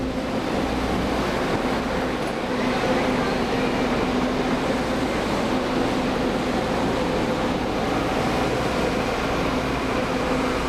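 A packed passenger train rumbles steadily along the rails, a constant low roar with a humming drone running underneath throughout.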